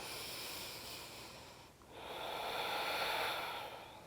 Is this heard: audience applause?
no